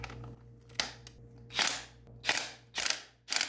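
Dewalt impact wrench hammering internally, giving four or five loud, sharp rattling bursts with short gaps between them, heard up close and alone.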